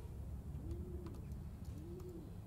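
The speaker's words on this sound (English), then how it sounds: "That's the bird. It's the bird." Inside the Summer Of 58 video game, a bird coos softly twice in slow rhythm over a low, steady night ambience, distant and alone with no talk.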